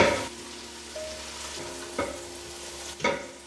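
Onions and jalapeno saute in a pot with a soft sizzle, while a few spoon knocks and stirs land about once a second, nearby and without speech.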